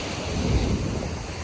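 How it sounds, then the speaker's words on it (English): Ferocious ocean surf pounding the beach at Todos Santos, Mexico, a steady, loud roar of breaking waves with wind buffeting the microphone. "all you hear is the sound of the ocean. The waves are ferocious."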